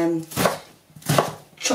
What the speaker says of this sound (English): chopping onions and making a racket with my knife and chopping board.